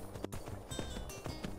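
A horse gallops in the video game Skyrim, its hoof beats a faint, regular clopping rhythm.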